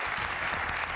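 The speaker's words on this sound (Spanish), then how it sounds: "Un aplauso para las chicas." Brief, steady applause rises from a television studio audience, a dense even patter of many hands, fairly soft and with no one speaking over it.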